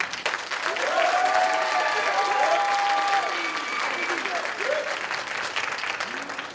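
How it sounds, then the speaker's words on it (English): Sustained applause from a crowd after a high school band chamber ensemble performance, steady clapping throughout with some cheering voices and whistles rising above it. "Let's give all of them a round of applause."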